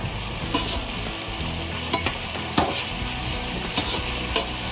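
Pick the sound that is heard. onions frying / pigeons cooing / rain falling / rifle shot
onions frying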